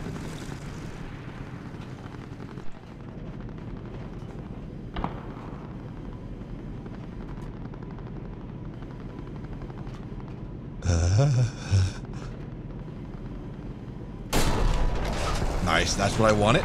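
A tank cannon in the War Thunder video game fires a few loud, sharp blasts over a steady engine rumble, and a player talks between the shots.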